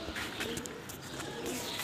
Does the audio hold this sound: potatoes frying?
no